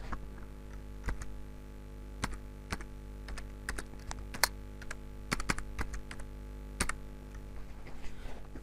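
A name is typed on a computer keyboard: scattered, crisp key clicks in uneven bursts over a steady low electrical hum, close and fairly quiet.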